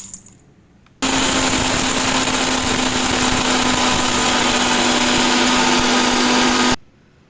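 A mixer grinder grinds gram flour for a face pack, starting abruptly after a second and holding a loud, steady motor whine with a constant hum for nearly six seconds before cutting off.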